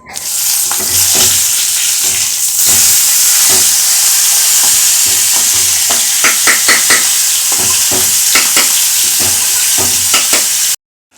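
Fish head curry sizzles and fries steadily in a pan, a continuous loud hiss broken by repeated scraping stirs of the spatula, the pan falling abruptly silent near the end.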